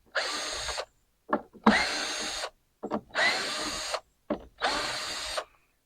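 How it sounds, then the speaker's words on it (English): A power drill backs screws out of a truck topper shell in four loud, close bursts, each whining steadily for about a second with short quiet gaps between. "first, I'm going to go to removing all these screws"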